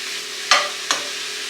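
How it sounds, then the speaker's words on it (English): Mushrooms frying in a pan under a steady close sizzle, broken by two quick scraping stirs of a utensil a moment apart. "they're starting to cook down and get a little golden"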